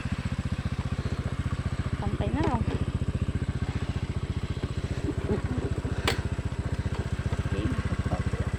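A motorcycle engine putters close by in a fast, steady pulsing beat while riding a rough, difficult road in the Philippines, with occasional clatter and voices talking over it.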